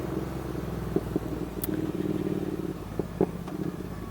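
Triumph motorcycles ride through Epping Forest, a steady low engine rumble with a few brief knocks and clatters over the top, heard at moderate distance.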